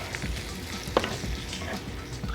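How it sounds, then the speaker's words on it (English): A pan of taco filling simmers on the stove with a steady soft sizzle and bubbling, plus one brief clink of a utensil against the pan partway through. "We're going to simmer this for about 8 or 10 minutes."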